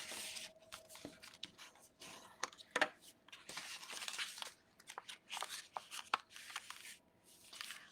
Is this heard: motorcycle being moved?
no